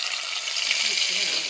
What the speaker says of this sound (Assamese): তেলখিনি গৰম হোৱাৰ লগে লগে তাতে মাছখিনি মই দি দিলোঁ।